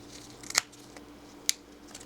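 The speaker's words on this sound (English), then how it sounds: "Now I have to use scissors to get this thing out of here" Scissors snipping open a plastic battery package, two short sharp cuts, the first with a small rustle just before it, the second about a second later, close and crisp over quiet background.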